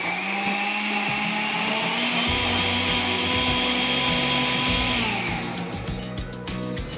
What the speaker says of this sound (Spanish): nos vamos a proceder a triturarlos